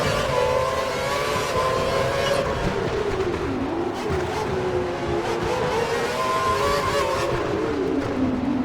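An F1 car engine in the racing game F1 2012 screams through an overtake at Monaco, its loud, continuous whine rising and falling with gear changes and throttle.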